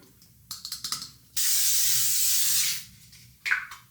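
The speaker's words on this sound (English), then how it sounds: "we need to do some setting spray" A few quick clicks and rattles, then one long steady spray hiss of L'Oréal Infallible makeup setting spray lasting over a second, followed by a short final spritz.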